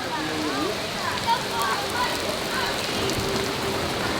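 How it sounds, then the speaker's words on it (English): Heavy rain pours down steadily at Lake Garda in Italy, making a dense, even hiss throughout with faint voices in the background. "It is bucketing down."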